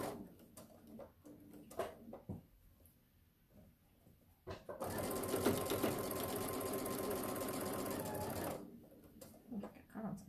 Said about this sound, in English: we're going to put her underneath the needle.